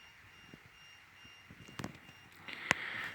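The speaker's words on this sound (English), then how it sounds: "this low voltage alarm is going to go on for days" LiPo battery low-voltage alarm on a crashed RC plane, outdoors at dusk, giving a faint continuous high beeping tone that rises louder near the end, with a few clicks and handling knocks.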